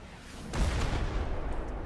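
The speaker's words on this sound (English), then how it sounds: "Watch out, I'm shooting the rocket launcher at it." A rocket launcher fires in a video game with one loud, heavy boom that rises abruptly and then rolls on as a sustained, rumbling blast until the end.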